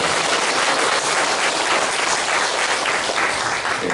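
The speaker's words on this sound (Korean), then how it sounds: "감사의 박수를 보내시면 감사하겠습니다" A church congregation applauding volunteers during a worship service, dense sustained clapping from many hands filling the room, loud and even throughout with no voices.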